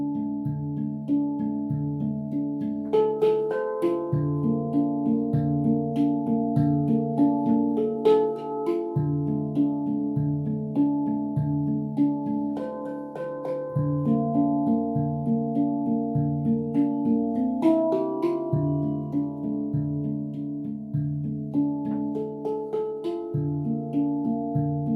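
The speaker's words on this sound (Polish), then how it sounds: "Czyż handpan nie jest cudownym instrumentem?" Handpan played in a simple beginner rhythm, steady strikes on the same tone field repeated and stepping higher or lower, ringing metallic harmonic notes that overlap and sustain at an even, moderate level with no voices.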